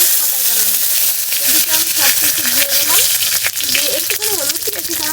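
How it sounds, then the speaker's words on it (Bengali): Cumin seeds sizzling in hot oil in a heated kadai for tempering, a loud continuous hiss and crackle with a voice speaking over it. "আমি শুধু জিরে দিয়েই ফোড়নটা দিয়ে দেবো দেখো কড়াই গরম হয়ে গেছে"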